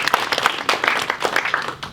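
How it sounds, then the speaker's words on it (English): A short burst of applause from a crowd, close and uneven, with a few cheers mixed into the clapping. "by the way, there's more applause than I got"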